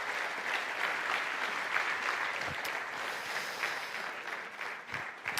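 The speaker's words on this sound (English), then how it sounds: "This is your applause." Sustained audience applause fills a festival hall at a strategic forum, steady and dense throughout with a few louder claps standing out, no speech over it.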